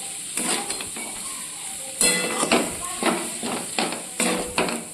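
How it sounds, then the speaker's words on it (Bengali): Vegetables with pepper powder and vegetable spice mix being stirred and fried in a pan, giving soft scraping stirs and light sizzling with several sharper spatula knocks against the pan, close and steady. "এটা খুব ভালো করে মিশিয়ে একটু ভেজে নিতে হবে।"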